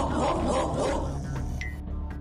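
A dog barks a few times in quick succession, loud and close, before the sound tapers into quieter background.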